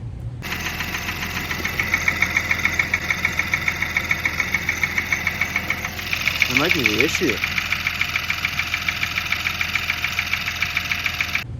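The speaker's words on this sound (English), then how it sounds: "I know it's cylinder 5 that's ticking. It's got the lifter tick." A car engine idles with a steady, rapid mechanical lifter tick from cylinder 5 throughout, while someone speaks briefly partway through.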